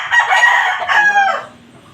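A rooster crows loud and close, one full drawn-out cock-a-doodle-doo with a rising and falling call that fades at the end, alone without talk.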